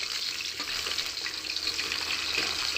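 Pieces of fish frying in a pan give a continuous, even sizzle with a soft crackling texture, steady and fairly faint.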